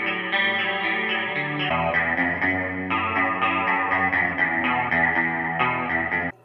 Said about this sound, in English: Next guitar effect on our list, chorus.